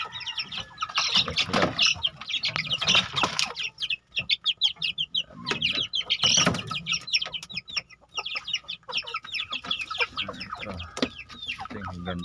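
A flock of backyard chickens clucks and squawks continuously at close range, with overlapping calls and bursts of louder cackling throughout, while a person speaks briefly over the birds.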